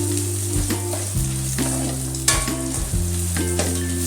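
Eight dried chillies fry in hot oil for a Tirupur-style fish kuzhambu, a close, busy sizzle with stirring clatters over a low steady hum that drops out in brief gaps; nobody speaks.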